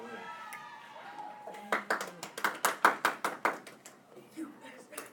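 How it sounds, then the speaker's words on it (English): A class of students bursts into a quick run of sharp claps, about a dozen rapid beats in a rough rhythm like a drum roll, loud and close after a stretch of quiet chatter and voices. "Guys, we don't clap."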